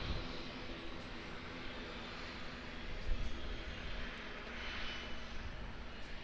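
A distant airliner roars steadily during departure from Auckland Airport, a broad continuous rumble with a faint swell partway through and no voices.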